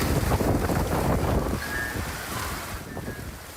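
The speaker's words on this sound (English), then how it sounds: "you hear this, the strong winds, right? The heavy rain." Strong gusting wind during a severe storm in Michiana buffets the microphone in a loud, roaring rush that eases slightly after the first couple of seconds.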